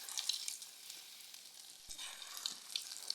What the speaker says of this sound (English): So here, next step is to fry.